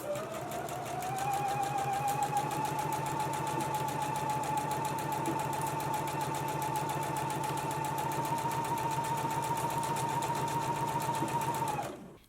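A sewing machine runs a continuous stitch along shoulder seams at a 5/8 inch seam allowance, a steady fast mechanical whir held for about eleven seconds before stopping abruptly, nearby and fairly quiet.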